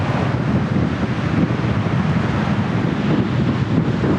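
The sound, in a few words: strong wind at a beach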